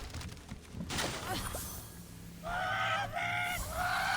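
Angry chickens in the video game Immortals Fenyx Rising let out loud honking, squawking calls in the second half, stacked in bursts over a steady game background with some earlier rustle and clatter.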